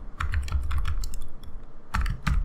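Rapid clicking on a computer keyboard while typing into an HTML form field, a dense run of close keystrokes, a brief pause, then another quick burst, with no voices.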